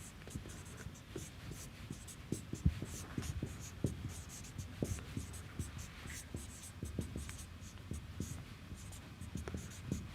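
Pen scratching steadily on paper while an equation is written out by hand, a soft continuous scribble with small strokes and taps, close but quiet over a low background hum.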